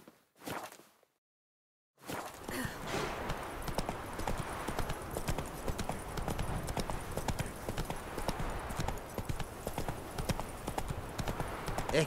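Horse hooves clip-clop steadily in The Witcher 3 video game, a continuous rhythmic galloping that runs loud and close after a brief pause at the start.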